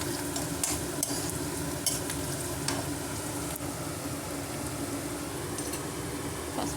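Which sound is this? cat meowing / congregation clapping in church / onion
onion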